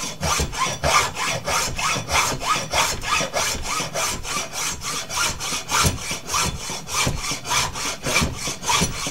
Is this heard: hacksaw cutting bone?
yes